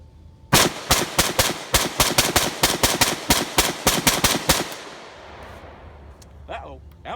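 Armalite AR-180B rifle firing Aguila .223 rounds in a fast run of about seventeen loud, close, sharp shots over four and a half seconds, then a quiet tail with faint voices.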